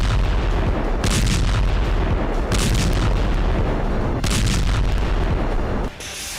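Thermobaric bomb explosions, a series of loud, deep booming blasts with rumbling roar between them, heavy and sustained, then dropping off abruptly near the end.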